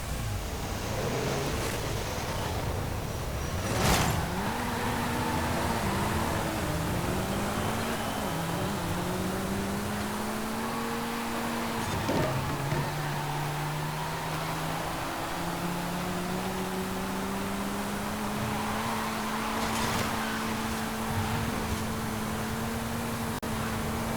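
A Renault Clio R.S. 16 Concept races in A Class in Forza Horizon 5, its engine droning steadily with pitch rising and falling through gear changes over constant road and tire noise, with no talk.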